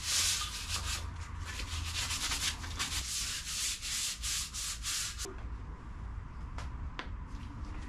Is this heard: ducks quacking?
no